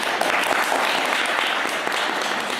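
An indoor audience gives dense, steady applause in a hall at a cultural event, continuous loud clapping throughout.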